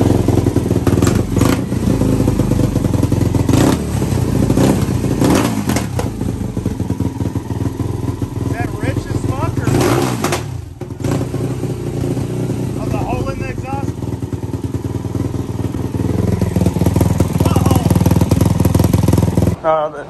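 A rebuilt Yamaha YFZ450 four-stroke quad engine running on its first break-in, a loud, close, rapid clattering idle with a few revs rising and falling, while people talk over it.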